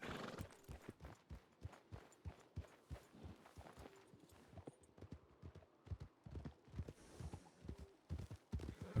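Horse hooves clip-clop in a steady walking rhythm, close and fairly loud, with a brief whinny mixed in among the beats.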